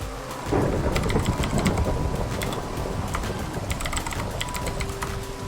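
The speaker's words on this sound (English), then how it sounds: "Because it's been raining just about this whole time." Steady rain falling in the SkyFactory 4 Minecraft modpack, a constant soft hiss of drops with occasional crackles and a low rumble of thunder underneath, no voices.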